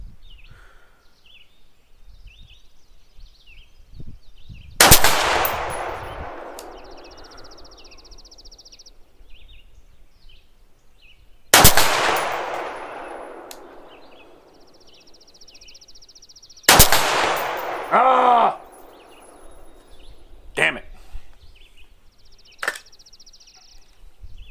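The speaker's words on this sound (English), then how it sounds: "I'm going to put one more round. I just want a 5-round group." Three sharp rifle shots fired from a prone position, loud and close, each followed by a long decaying echo and spaced several seconds apart, with faint clinks and rustling between them.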